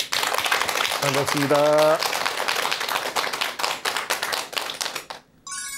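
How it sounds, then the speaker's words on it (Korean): Lecture audience applauding steadily for several seconds as a professor is welcomed to speak on meditation, with a brief spoken greeting as the clapping fades near the end. "큰 박수 부탁드립니다"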